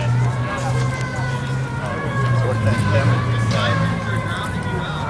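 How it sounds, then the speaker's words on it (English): Emergency sirens wail and sweep up and down as they pass near an outdoor Occupy Richmond general assembly in 2011, rising over a low traffic rumble while voices murmur underneath. "Sirens are totally drowning me out"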